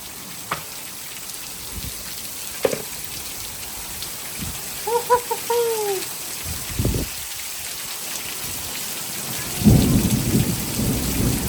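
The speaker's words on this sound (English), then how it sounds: "we're getting our inch of rain all at once" Heavy rain pours down in a steady, dense hiss, with low thunder rumbling now and then and a brief bird chirp in the middle.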